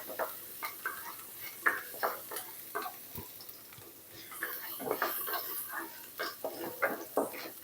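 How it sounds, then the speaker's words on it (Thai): Garlic stir-fried in a pan for an oyster-sauce oyster mushroom dish, giving quiet, intermittent scrapes and clinks of a utensil over a light, low sizzle. "ผัดกระเทียมให้เหลืองหอมเลยค่ะ"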